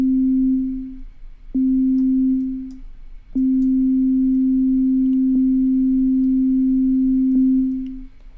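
A steady, pure 440 Hz electronic tuning tone held for several seconds, cut off and restarted a few times with faint clicks at each break.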